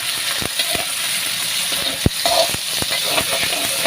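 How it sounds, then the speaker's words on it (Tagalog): Tungkan meat frying in a pan, a steady bright sizzle broken by scattered pops and the occasional clink of a utensil against the metal, close and without speech. "Ang unahin ko muna, ipiprito ko itong tungkan."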